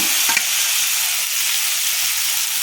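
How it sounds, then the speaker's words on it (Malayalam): Grated ash gourd stirred in a pan while cooking halva, a steady soft sizzle and scraping with one brief spoon clatter near the start, close and continuous. "കുമ്പളങ്ങ ഇട്ട് ഇനി നന്നായി ഒന്ന് ഇളക്കി കൊടുക്കും."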